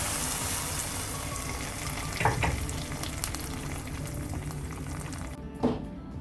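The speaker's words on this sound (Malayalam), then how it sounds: "ഇനി കാഷ്യൂവും കിസ്മിസും ആ നെയ്യോട് കൂടി തന്നെ നമുക്ക് പായസത്തിൽ ഒഴിച്ചു കൊടുക്കാം." Cashews and raisins frying in hot ghee give a steady, close sizzle for carrot pasta payasam, with a couple of brief louder bursts as the nuts and ghee go into the pot.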